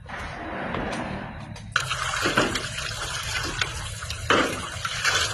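Water pouring and splashing during dishwashing, a steady loud stream that starts after a quiet moment and runs continuously, with a few clatters of dishes against it.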